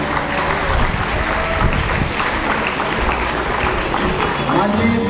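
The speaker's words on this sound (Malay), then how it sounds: "Beri tepukan yang paling gemuruh kepada seluruh warga pendidikan" Audience applause fills a results announcement ceremony for the 2021 SPM exam in Kedah, a steady dense clapping from a large hall crowd lasting throughout, with some voices mixed in.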